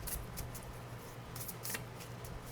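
Tarot cards being shuffled by hand, with repeated soft, crisp riffling bursts in quick succession, close and intimate, no talking.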